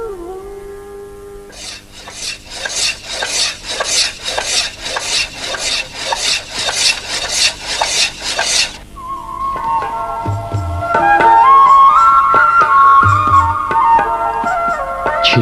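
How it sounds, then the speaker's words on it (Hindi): A metal plate, a thali, is scraped by hand to brighten its surface in a utensil-making workshop, heard as about a dozen rhythmic rasping strokes, close and loud, followed by a steadier grinding whir. "सीधी हुई थाली का अगला पड़ाव होता है वह घर जहां उसकी सतह की छिलाई होती है"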